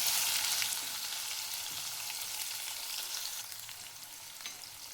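Onion sizzles steadily in hot oil with whole spices such as cinnamon and cardamom, the bright frying hiss close and continuous and easing slightly toward the end.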